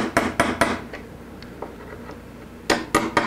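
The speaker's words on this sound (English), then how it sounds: "Take a transfer punch that fits this hole, the pre-drilled screw holes, and then I can just tap on them to make a nice dimple" Sharp metallic taps of a hammer on a transfer punch marking screw-hole dimples for an acoustic guitar neck joint fixture in a woodworking shop: three quick close strikes, a few faint ticks, then three more.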